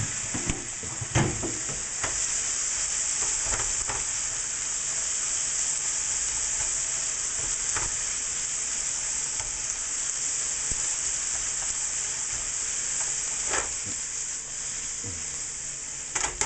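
A quiche filling of chicken, sausage and broccoli browns in a frying pan with a constant loud sizzle. Occasional spatula scrapes and taps sound against the pan throughout.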